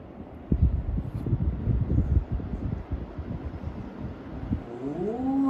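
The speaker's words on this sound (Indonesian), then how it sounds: "Ini kencang banget anginnya, nggak bohong nih" Strong gusting wind buffets an outdoor microphone with broadband low rumble, loud near bursts through the first half, easing slightly, then a rising whine-like tone near the end.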